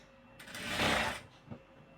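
A sewing machine stitches fabric in one short close burst lasting under a second, rising and falling, followed by a small mechanical click.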